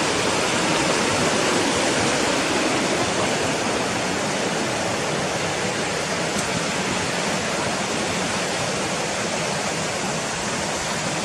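Water rushes steadily down Gunnerside Gill, a stream in the village of Gunnerside, as a loud, unbroken roar of white noise that stays constant throughout, close by, with no talking.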